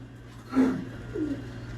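A pigeon at a keeper's loft gives two soft, low coos, a fuller one and then a quieter one, close by against a faint background hum.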